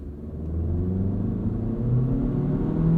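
A 2022 Honda Civic Touring sedan accelerates from a standstill toward 60 mph, its engine rumble rising steadily in pitch through the gears, heard from inside the cabin as a continuous moderate drone.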